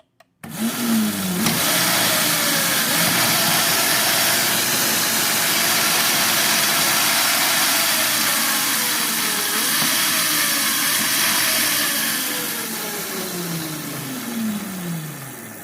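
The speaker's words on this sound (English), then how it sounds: "use the motor and just kind of free spin this guy." A Jazzy 24V lithium-ion electric power chair motor spinning freely off the ground, a loud steady whirring hum with rising and falling whine as speed shifts, ending with a gradual wind-down; no talking.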